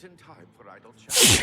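A single loud, close sneeze bursts out right after a short line of spoken game dialogue.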